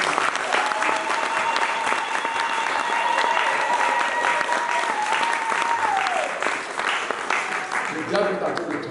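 A church congregation claps and cheers in sustained, dense applause throughout, with a sung or shouted tone riding over it before the noise briefly thins near the end.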